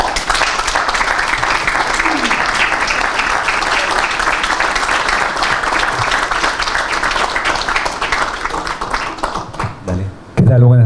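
Audience giving a strong round of applause to welcome a speaker at a Día del Periodista talk in Río Tercero, loud and sustained for about ten seconds, then fading as a voice begins speaking near the end.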